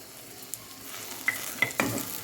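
Egg curry masala with turmeric and chopped coriander sizzles in a pan while a spoon stirs it, giving a few sharp scraping clinks over a soft, steady frying hiss.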